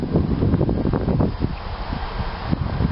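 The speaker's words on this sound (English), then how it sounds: "You notice that I'm using the wind." Gusty wind blows outdoors, a steady broadband rush with surging low rumbles that swell and ease throughout, fairly loud and close to the microphone with no voices.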